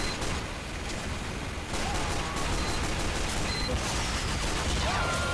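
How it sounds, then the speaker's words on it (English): Pistol gunfire in the multiplayer shooter Team Fortress 2, a dense, continuous clatter of game combat with overlapping shots and mechanical sounds at steady loudness throughout. "I hear pistol shots."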